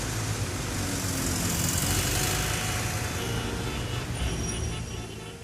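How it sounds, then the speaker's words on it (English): Busy London street with red double-decker buses and black taxis, a continuous wash of engine rumble and passing traffic, steady and fairly close, with no voices. "There are lots of red double-decker buses and black taxis in the streets of London."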